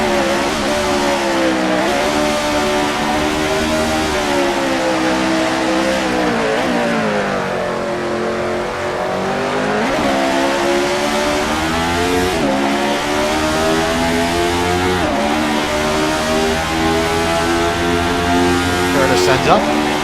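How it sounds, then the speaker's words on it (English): Formula Lotus race car engine in a racing game on the Nordschleife, screaming loudly and steadily with repeated pitch rises and sharp drops at each gear change, including downshifts on a straight, with commentary voices talking over it. "Curtis with a downshift on the straight"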